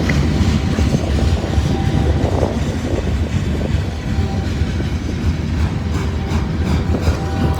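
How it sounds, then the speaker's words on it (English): A long freight train of boxcars rolls steadily past nearby, a continuous loud rumble and rattle of railcars with occasional wheel squeal and clatter, no talk. "Nice string of boxcars here."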